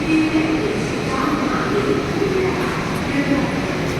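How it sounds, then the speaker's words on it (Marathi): A Pune metro train arriving rumbles steadily nearby with a constant low roar and faint squeals, while people talk in the background. "आमची मेट्रो आलेली आहे"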